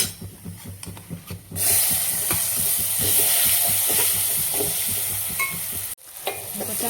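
Garlic and chili powder frying in hot oil in a home kitchen pan: steady loud sizzle with scraping stir strokes, briefly quieter near the start and again near the end.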